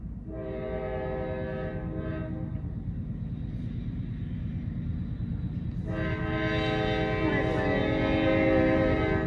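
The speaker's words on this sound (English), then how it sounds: "Pause for train." A nearby passing train sounds a long, loud, sustained horn over a deep rolling rumble, and the blare swells louder partway through.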